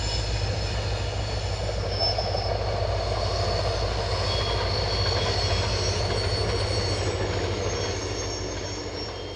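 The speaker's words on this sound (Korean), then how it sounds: "한참을 달리던 기차가" A train on the Gyeongjeon railway line in southern Korea runs steadily, with a loud continuous rumble, high wheel squeal and faint clatter that eases slightly at the end and no voices.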